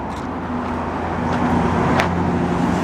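A car passing on a Dorval street in Montreal, a steady engine and road hum that swells louder in the second half against the background traffic.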